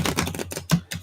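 A tarot card deck shuffled by hand, giving a close, loud run of rapid riffling clicks and flutters in several quick bursts with no talking.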